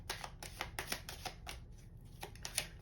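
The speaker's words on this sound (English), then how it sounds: "And then also overhand shuffle." Overhand shuffling of a small deck of Romance Angels playing cards, a series of soft, quick papery riffles and slaps in irregular bursts, close and fairly quiet, with no voices.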